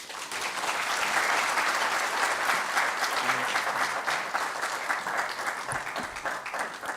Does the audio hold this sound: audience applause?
yes